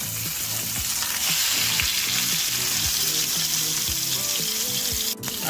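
Ground beef searing in a pan for jambalaya, a loud, steady close sizzle with crackling pops throughout and a brief clatter near the end, no talk.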